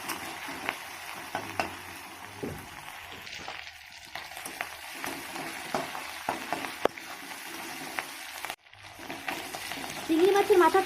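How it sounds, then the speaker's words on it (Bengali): Prawn heads frying in oil, a close, continuous sizzle with frequent scraping stirs of a spatula against the pan, growing louder toward the end. "চিংড়ি মাছের মাথাটাকে এবার ভালো করে আমি ভেজে তুলে নেব।"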